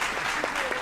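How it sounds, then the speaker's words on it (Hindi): An audience applauds at a Bihar election comedy show, a dense, steady patter of many hands clapping close by for under a second with no break. "एक बार ताली बजा दीजिए मेरे सम्मान में"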